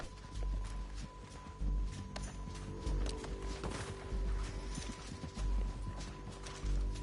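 Horse hooves clip-clopping at a steady walk in Red Dead Redemption 2, moderately close and fairly quiet, with faint background game ambience and no talk.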